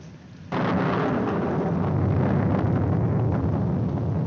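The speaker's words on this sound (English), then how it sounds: "I'm afraid of the thunder and lightning." Heavy rain and a thunderstorm in a 1946 film drama break in suddenly and loud, then hold as a dense, steady roar with no one speaking.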